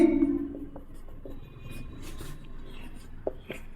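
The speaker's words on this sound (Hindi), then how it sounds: "तो वही लिखते हैं" Chalk or marker scratching out an equation on a classroom board, a run of quiet strokes and taps that carries on through the clip, with a faint voice behind it.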